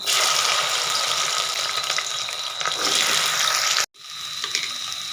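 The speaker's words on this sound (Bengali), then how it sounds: "এবার আমি প্রথমে কচুগুলোকে তেলে ভেজে নেব।" Cut taro pieces fry in hot oil for a taro and potato curry, giving a loud, steady, close sizzling hiss that drops out abruptly for a moment near the end before resuming.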